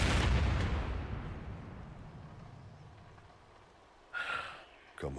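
A Qunari dreadnought blows up in Dragon Age Inquisition, a loud rumbling explosion that fades into a long low tail before two sharper bursts near the end.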